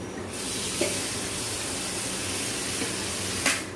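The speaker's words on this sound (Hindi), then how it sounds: "इसका पानी फेंक देते हैं" Cooking water pours steadily from a pot of greens into a sink, a soft continuous splashing hiss with a couple of faint clinks, close and fairly quiet.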